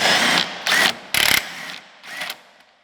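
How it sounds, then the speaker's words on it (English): A ratchet backing off 13 mm sway bar bolts on a B7 Audi A4, four short bursts of rapid close clicking separated by brief pauses. "Now we're gonna take these other sway bar bolts off."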